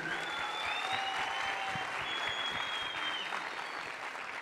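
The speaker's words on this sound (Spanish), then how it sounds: "Venga, un aplauso bien fuerte para ellos." A crowd at the Premios Yoguis awards ceremony claps loudly for students from the San Antonio de Prado school, with thick, continuous applause that stays strong throughout while faint whistles and cheers ride on top.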